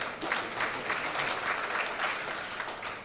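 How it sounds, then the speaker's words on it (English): A room full of people at a charity breakfast event claps steadily for about three seconds, a dense, lively round of applause without any speech. "let's give him a big round of applause"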